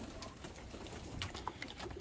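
Pigeons cooing softly during a bird-box opening, faint low calls scattered over a quiet, hissy background.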